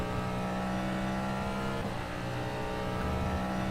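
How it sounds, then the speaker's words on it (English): A DPi hypercar engine drones at Road America in the rFactor 2 racing game, a loud, steady buzzing roar holding a near-constant pitch with only a slight dip midway, heard alone. "Car's quite loud compared to me."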